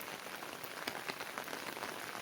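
Heavy monsoon rain in Konkan, falling steadily as a dense, even hiss of drops on surfaces, continuous and fairly soft in level.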